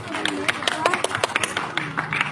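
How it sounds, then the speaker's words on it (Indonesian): Scattered hand claps for a woman at a book launch, sparse and uneven over a steady background of voices, with people talking throughout. "Tepuk tangan buat Mbak."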